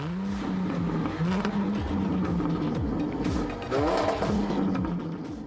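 A 3-liter V6 car engine revs and growls steadily, rising and falling in pitch with a strong, close rumble throughout and no talking.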